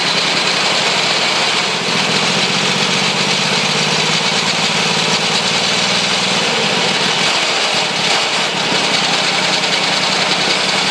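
A homemade three-cylinder engine runs loudly and steadily close by, with a rough, vibrating drone throughout and no speech.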